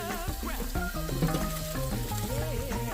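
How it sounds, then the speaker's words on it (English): Shrimp for a po'boy bubble and crackle in a deep fryer, a dense steady sizzle running beneath tonal music that plays over it the whole time. "We're about to remove our shrimp from the fryer."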